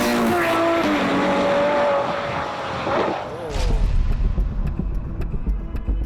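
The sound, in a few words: Ford GT supercar driving fast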